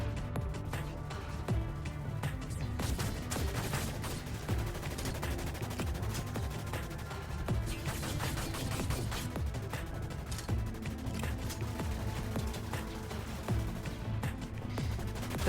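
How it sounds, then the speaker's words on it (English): An Assault Scrambler pistol in the game Dust 514 fires in fast, continuous streams of shots, loud and dense throughout with steady game-battle noise underneath. "The Assault Scrambler pistol is a very fast, light damage dealing sidearm."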